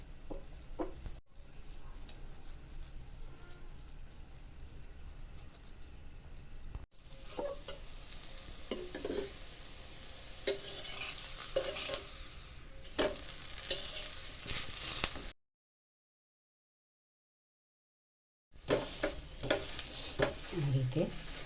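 Bottle gourd paratha cooking in ghee on a pan gives a close, continuous sizzle with scraping and stirring touches, broken by a short silent gap near the end.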